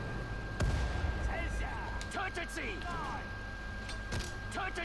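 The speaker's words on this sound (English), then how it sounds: "so let's toss a few grenades" Grenades burst amid a Sudden Strike 4 battlefield, a sharp blast early on followed by scattered thuds and crackling combat noise, with someone speaking over the action.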